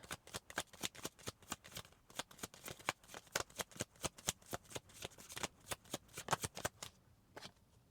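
Tarot cards shuffled by hand, a rapid run of crisp riffling slaps in quick bursts, close and quiet, tapering off near the end.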